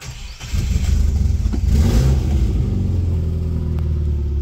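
A Subaru engine cranks and catches after a brief quiet moment, then settles into a loud, close, steady idle rumble that carries on to the end.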